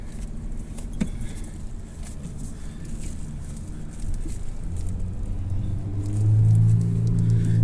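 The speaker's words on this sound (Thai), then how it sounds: "ขึ้นรถแล้วตอนนี้กำลังจะขึ้นภู" A car climbs a mountain road, its engine a steady low rumble heard from inside the cabin, swelling louder and heavier toward the end with no talk.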